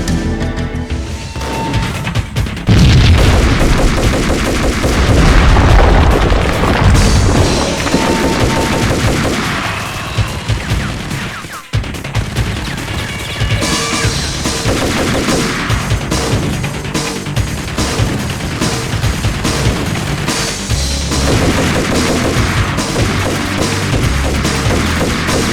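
Gunfire in the video game Max Payne, dense bursts of shots and automatic fire with crashes and impacts, sustained and loud over a busy game soundtrack.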